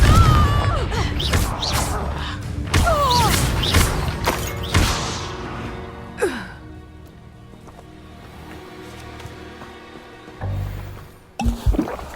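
A Confringo blasting spell from Hogwarts Legacy lands with a string of loud, booming impacts and crackling bursts up close, fading into a rumbling tail before sharp thuds return at the end.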